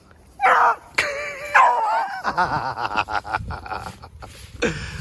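A beagle barks and yips excitedly in a quick series of loud, close bursts, with a few whiny, whimpering notes mixed in.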